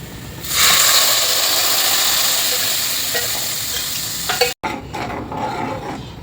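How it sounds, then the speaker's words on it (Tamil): Tomato paste for thakkali thokku hits a hot pan with garlic and bursts into a loud, steady sizzle that slowly fades, broken by a brief stir or clank near the end. "இப்போ வந்து இந்த பேஸ்ட்டை நம்ம இதில் ஊற்றிடலாம்."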